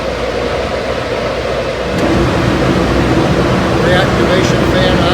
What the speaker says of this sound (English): Supply blower on.